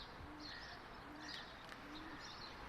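Pigeons coo softly in a park in Oman, faint low repeated calls in a slow rhythm over a steady background hiss, with higher bird notes in between and no speech.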